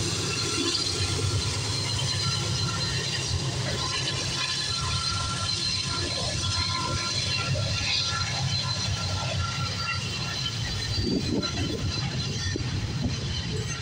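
A CPKC freight train led by locomotive 8169 rumbles past steadily at Guelph Junction, Campbellville, with continuous low rolling noise and rattling wagons, no voices over it.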